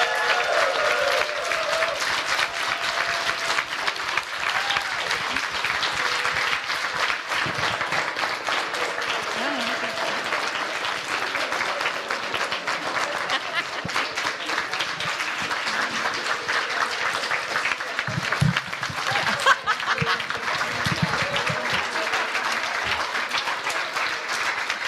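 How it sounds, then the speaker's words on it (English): After an arts showcase at a theological seminary, an audience applauds the artists with sustained, even clapping for a long stretch, and faint voices and cheers mix in under it. "Maybe you could all join me with a round of applause for our incredible artists."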